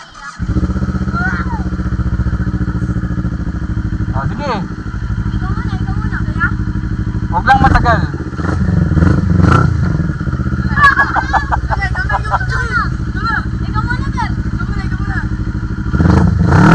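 A CF Moto NK400 motorcycle engine idles and revs in short bursts, loud and close, with a honking horn and people talking over it.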